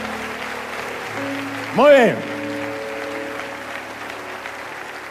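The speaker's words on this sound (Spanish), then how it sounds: "De todos los países el aplauso" Audience applause welcoming viewers from every country at a church service, a soft, steady patter of clapping under a voice, with a sustained musical tone and a swooping electronic sound rising through the middle.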